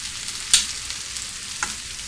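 Breaded Italian pork chops sear in a hot pan with a steady low sizzle, broken by a sharp clatter near the start and a softer knock later as the chops are turned.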